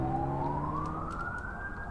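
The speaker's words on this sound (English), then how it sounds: "I hear the distant sound of sirens" A siren wails in the video game The Drifter, a single rising tone that climbs steadily and stays moderately loud over a low background hum, with no talk.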